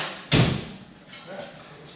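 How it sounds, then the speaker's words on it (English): The door of a Polaris RZR Pro XP 4 off-road vehicle shuts with a single close, solid thud, which fades into a quiet background with faint voices. "Hang on, I need to close the door."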